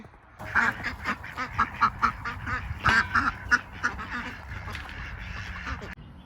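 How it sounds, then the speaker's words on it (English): Ducks quack at night on a poultry and waterfowl farm in a busy, continuous chorus, many overlapping calls close by, stopping abruptly near the end. "these ducks are bebopping here at night"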